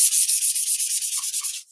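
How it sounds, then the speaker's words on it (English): Rapid back-and-forth sanding strokes on the dull side of a Dollar Tree sugar skull, about a dozen in a steady rhythm, bright and scratchy, close up with no voices. "So I'm actually sanding the dull side."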